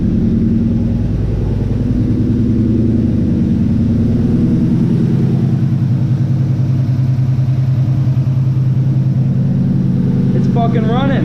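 Ford Mustang GT with a 300+ hp engine running steadily, a loud, continuous low rumble close by that holds through the whole stretch.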